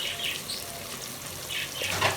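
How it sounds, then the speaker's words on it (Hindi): Water is poured into a pot of simmering chicken korma. A steady, hissing splash and trickle runs for a couple of seconds with no talk. "थोड़ा सा पानी डालेंगे ताकि बोटी अच्छे से नरम हो जाए, इसलिए पानी डाल रहे हैं।"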